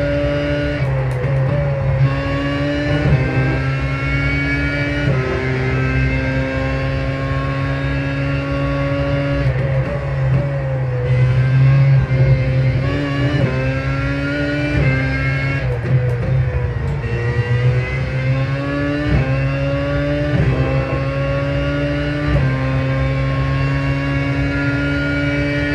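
Race car engine lapping in the iRacing sim, a loud continuous near drone rising and falling through repeated upshifts and downshifts, pitch climbing steadily between gear changes as it brakes and accelerates through corners, no talking.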